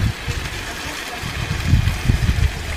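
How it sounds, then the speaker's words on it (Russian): Boiled water pours into a pot and splashes with a low gurgling rush, growing heavier toward the end, close by. "Добавляем воду кипяченую."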